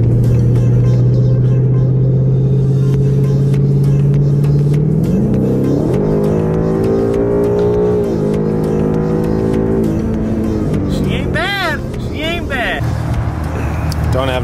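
A 2018 Ford Mustang GT V8 accelerating hard from a low idle rumble, rising through revs with a gear shift, engine roar climbing and settling, then tire or engine whines near the end; close and loud, with brief speech.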